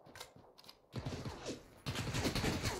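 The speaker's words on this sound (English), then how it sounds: "Yeah, he's shooting me." Gunfire in the video game PlayerUnknown's Battlegrounds, including shotgun blasts: a quiet stretch of scattered shots, then dense, loud rapid bursts of fire that keep going to the end.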